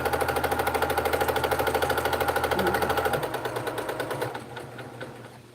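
A quilting sewing machine runs in a fast, steady stitching rattle up close, then slows and winds down toward the end.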